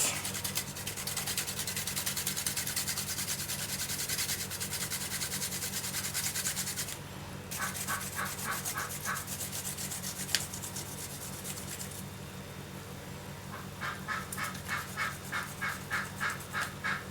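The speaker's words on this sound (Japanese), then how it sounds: "生姜もすります。" Fresh ginger grated by hand in a kitchen while preparing keema curry, a steady close rasping scrape in repeated strokes, pausing briefly and then resuming in quicker rhythmic passes.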